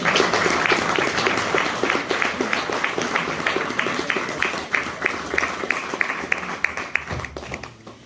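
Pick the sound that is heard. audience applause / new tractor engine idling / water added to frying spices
audience applause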